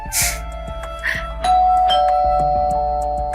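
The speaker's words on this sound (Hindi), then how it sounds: "अरे घंटी बजी है," A bell-like electronic chime rings out a few times, bright and clear, followed by a sustained ringing tone in a quiet room.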